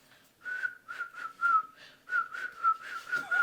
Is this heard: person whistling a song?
yes